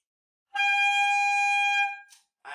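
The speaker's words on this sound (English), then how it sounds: "So this is the alternate fingering for key E and it sounds something like this." A saxophone holds a single high altissimo E, played with an alternate fingering and the octave key down, a bright sustained tone lasting over a second before cutting off, followed by brief soft noises.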